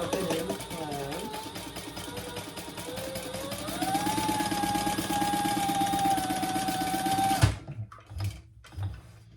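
A sewing machine bastes the open end of a bag closed with a steady, close motor whir and rapid stitching that runs several seconds, then stops, followed by a few handling knocks.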